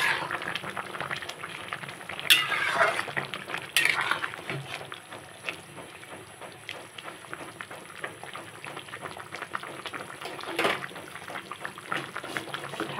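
Hilsa fish curry with potato and eggplant being stirred in a pan, a continuous sizzling, bubbling cook with occasional sharper scrapes and clinks of the spoon against the pan.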